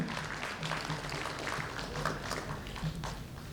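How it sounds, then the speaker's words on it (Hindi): Applause from a prize ceremony audience for Marathi-medium award winners, faint and distant, a steady patter of clapping under room noise. "जोरदार तालियां"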